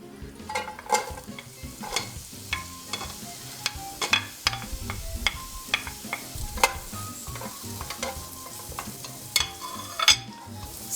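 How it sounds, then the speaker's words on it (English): Onions and garlic sautéing in hot oil, a steady close sizzle broken by frequent scraping and clinking stirring strokes, with no talk. "When the oil is hot, I'm gonna put my onions and my garlic and saute them until they're golden."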